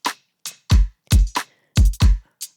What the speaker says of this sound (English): Okay, so that's the sound of supernatural.